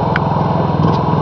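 A Honda 3000 generator, a low-decibel model, runs with a steady, close engine drone that holds evenly throughout, with no voices.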